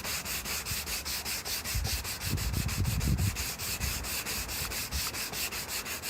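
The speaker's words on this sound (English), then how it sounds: "So we just need to get this sanded down, get it ready for the paint." A shuttle bus roof escape vent being sanded by hand to prep it for paint: rapid, rhythmic rasping strokes, close and fairly quiet, with a brief heavier stretch in the middle.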